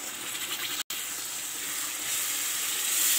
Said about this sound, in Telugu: కొంచెం సేపు ఆయిల్ పైకి వచ్చేదాకా ఫ్రై చేసుకోవాలి